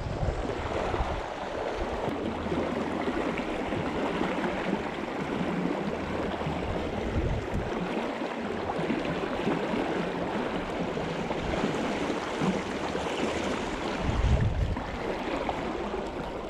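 Fast-flowing river water rushes steadily at a salmon fishing spot, a broad continuous roar with some wind buffeting the microphone and no talk.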